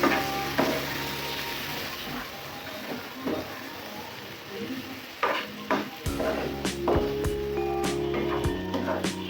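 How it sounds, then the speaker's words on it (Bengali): Loitta fish being stirred with spices in a hot pan, a continuous sizzle broken by repeated scraping and knocking strokes of a spatula, close by. "মশলার সাথে মাছগুলা ভালো মতো মিশিয়ে নিচ্ছি।"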